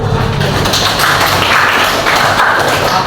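A classroom full of people claps together in dense, loud, continuous applause that fills the whole stretch, close and without talk.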